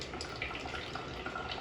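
Water pours steadily into a coffee brewer in a brief, soft, continuous trickle heard alone.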